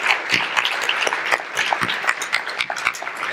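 Sustained audience applause at a live event honouring people changing their lives, with individual claps standing out sharply within a steady, fairly close wash of clapping.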